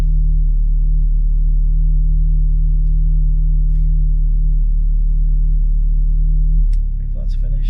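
An Audi S3 8V idles on a cold start, a strong low droning hum heard from inside the cabin, steady until it dips near the end as some clatter and handling noises come in.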